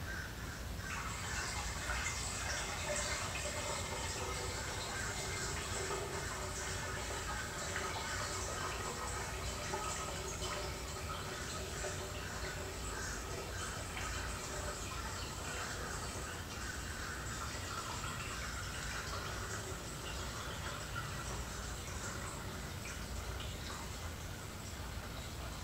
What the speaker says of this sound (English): I'm just pouring gentle towards the end so I don't wash all that debris into the